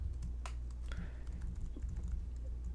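Rapid, steady clicking of a computer keyboard as HTML code is typed, close and fairly continuous with no voices.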